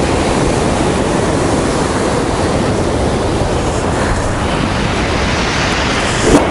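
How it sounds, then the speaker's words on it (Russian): Sea waves breaking on a pebble beach at Sochi, a loud continuous roar of surf filling the whole stretch without pause. "Видите, какие волны. Смотрите, какая волна идет."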